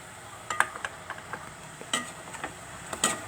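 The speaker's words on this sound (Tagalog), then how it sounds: "Kumukulo na yung ating chicken sa mantika at sa patis na ating nilagay para manuot yung lasa" Chicken pieces cooking in oil and fish sauce for chicken-wing tinola, giving soft crackling sizzle with a few sharper pops and clinks of a utensil against the pot, close and fairly quiet.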